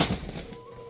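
A sharp Diwali firecracker bang in a village right at the start, followed by a rumbling, fading tail and scattered crackle.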